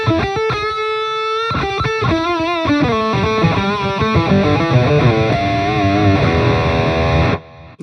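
Electric guitar played through the pure echo setting of a JBL Bandbox Trio amplifier, mix and feedback turned down, a run of bright sustained notes and chords with distortion and a faint trailing repeat, loud and steady before cutting off near the end.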